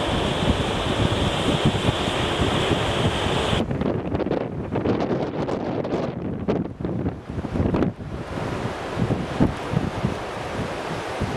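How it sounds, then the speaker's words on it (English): Strong wind buffets the microphone at Smith Point on the coast, a continuous loud roar with gusty surges and drops and no voices. "Very windy."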